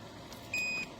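A small portable indoor space heater with a rotating feature gives a single short, clear electronic beep when its button is pressed, set against a quiet background hum.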